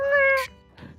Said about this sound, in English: the kitty that screams and disappears there